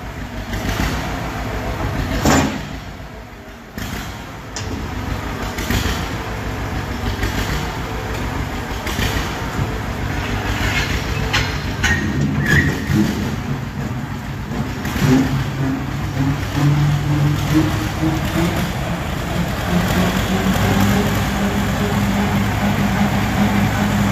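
A 1957 John Deere 520 tractor engine runs loudly and steadily nearby, briefly dipping after a sharp knock, then revving up with a rising, throbbing drone toward the end.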